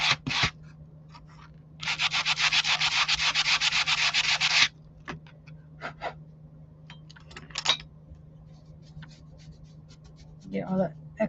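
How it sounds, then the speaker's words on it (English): A miniature retro stove front is sanded by hand in one sustained rasping burst of back-and-forth strokes, with a few brief scrapes and handling knocks around it. "I think this will give it a quick sanding on the front here."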